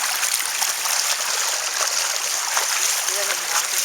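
Floodwater pours across a road and down the shoulder, a loud, constant rushing and splashing wash with a faint voice briefly audible beneath it.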